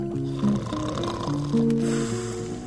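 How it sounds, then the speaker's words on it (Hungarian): Snoring in a Hungarian animated cartoon about Rumcájsz, where a lost lord out hunting deer in the forest snores; rhythmic, nasal, rumbling snores with wavering tones, close and fairly loud, over a soft background. "egyszer csak horkolást hallott"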